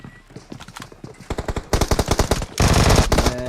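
Rapid automatic gunfire in the mobile battle royale game PUBG Mobile rattles out in quick close bursts, growing denser and louder toward a sustained volley at the end.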